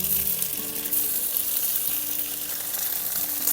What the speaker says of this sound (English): we'll get our tofu frying here.